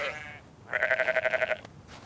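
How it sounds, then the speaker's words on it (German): Merino sheep bleating in snow: a brief bleat, then a longer, wavering one, moderately close over a soft outdoor background with no talking. "Selbst im Winter ist Quirin Frövis mit seinen Merino-Schafen so lange wie möglich auf Wanderschaft."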